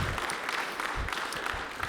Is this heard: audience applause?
yes